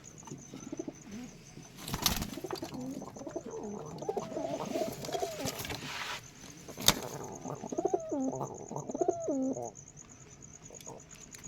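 Giribaj pigeons from Rajshahi coo in soft, repeated low calls among wing flutters and a couple of sharp knocks, close by, with a faint steady high whine in the background.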